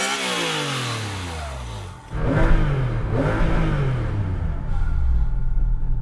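A Porsche 911 GT3 RS 3.6-litre flat-six engine idles low, then revs hard twice with a deep, rumbling roar, settling into a throaty growl; loud and close, no talking.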